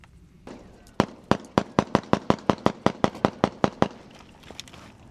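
Pistol fired through a Stealth Additive Works SHIV suppressor outdoors: about fifteen sharp, evenly spaced shots in quick succession, loud and close, each a crisp crack with a short tail, preceded by a faint rustle.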